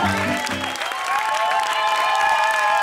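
Applause and cheering for a contestant named Lullu on a cartoon game show, a steady dense wash of clapping after brief tonal music at the start, with a bright tone running through it.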